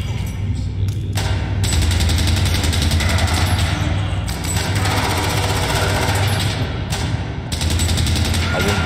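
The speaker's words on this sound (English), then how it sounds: "I wouldn't be going towards the gunfire." Gunfire in Fallout London, rapid bursts of automatic shots rattling loud and continuous with brief gaps, while someone talks over it.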